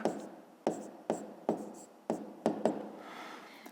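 Pen or pencil strokes writing out a fifth-grade decimal subtraction problem, a run of soft scratchy marks in uneven bursts, close and quiet with no talking.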